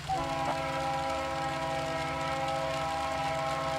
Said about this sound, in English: So let me hear the train horn,